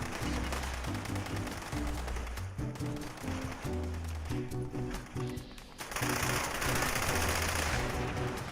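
Light machine gun fire in Fallout 76, a steady run of rapid automatic shots that carries on through most of the stretch, loud and close, with a denser, harsher burst near the end and no talking.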